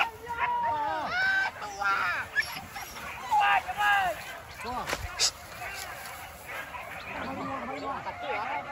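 A dog barks repeatedly nearby with whining, yelping cries in between, while people talk over it throughout.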